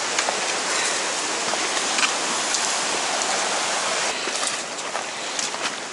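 A mountain stream beside a hiking trail flows as a loud, dense, steady rush of water, close by and unbroken, with scattered splashes and no talk.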